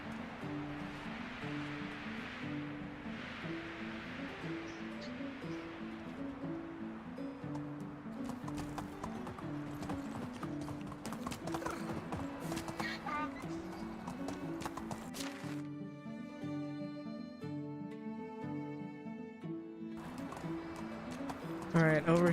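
Galloping horse hooves in the medieval survival game Medieval Dynasty, a steady clip-clop rhythm running through the whole stretch alongside a repeating musical drone and ambient game sound.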